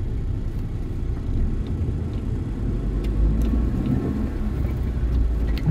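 Cars stuck in a long traffic jam on a road in Sta. Clara, Sta. Maria, Bulacan, giving a steady, dense low rumble of idling and creeping engines that holds evenly throughout with no voices.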